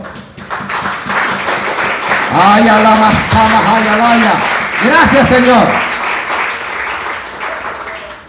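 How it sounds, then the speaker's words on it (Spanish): A church congregation applauds during a sermon, a broad patter of many hands that swells and then thins, with a voice calling out loudly over it. "¿Será que le aplaudimos al Señor?"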